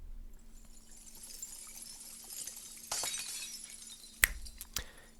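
A video game glass-shatter effect for a breaking illusion: a faint rising airy shimmer, then a burst of breaking glass, followed by two sharp crashing shards near the end, crisp and close.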